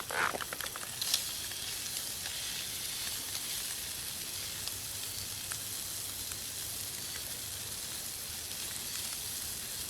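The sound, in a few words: food frying on a spatula-tended pan outdoors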